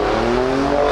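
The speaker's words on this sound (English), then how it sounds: "That has a twin-turbo V6 that makes a lot of horsepower, 450 of them" Twin-turbo V6 of a Ford Raptor pickup making 450 horsepower, accelerating hard in a drag race, a loud continuous engine roar with rising pitch over one second.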